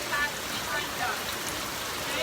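Rain falls steadily in Ghana, a continuous soft hiss of drops on surfaces with a brief fainter voice-like tone here and there.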